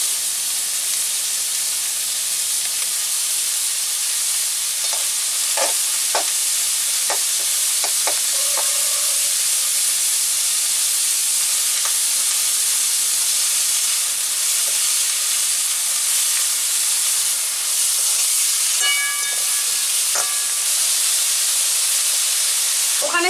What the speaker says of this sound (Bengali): ওখানে সবজিগুলো ভাজা হতে থাক